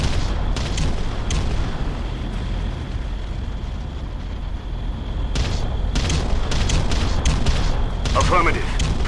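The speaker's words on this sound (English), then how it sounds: "bombardment." Artillery shells rain down in the real-time strategy game Ground Control, a continuous rumbling bombardment of overlapping booms with sharp crackling impacts clustered toward the end, steady and fairly loud throughout.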